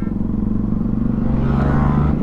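A Bajaj Pulsar NS 200 motorcycle on a group ride, its engine a loud, steady close-up drone with a slight rise in pitch near the end, with no talking.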